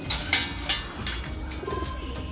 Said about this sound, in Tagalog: Ayan, first bird natin, si Jabakok.